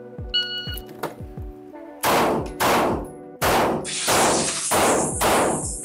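Rapid loud Glock pistol gunshots fired one-handed with full metal jacket ammunition, a quick string of sharp close blasts with ringing decay after some quieter clicks and handling at the start.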